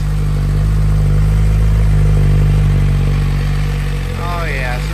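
A stock Suzuki GSX-R1000R sport motorcycle engine with stock exhaust idles steadily and loudly throughout, a constant low rumble with a brief higher whine near the end.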